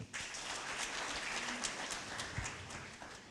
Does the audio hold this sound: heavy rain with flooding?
no